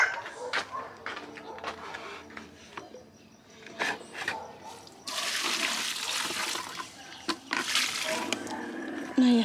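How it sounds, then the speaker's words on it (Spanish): Water poured onto a potted plant during household chores: after quieter scattered sounds, a rushing, splashing pour comes in two loud bursts, close by. "Ay, se le voy a echar agua."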